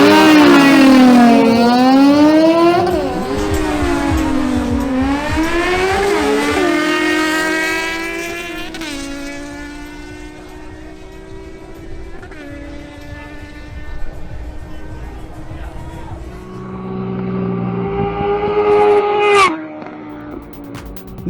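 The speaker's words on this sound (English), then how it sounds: "Nelson Camacho makes another run on his Honda CBR650R, facing Fabian Moreno on his Suzuki Bandit 650" Honda CBR650R and Suzuki Bandit 650 motorcycles at a drag race, engines screaming up through the gears with rising, falling pitch sweeps, loud and close at first, then easing off and fading toward the end of the run.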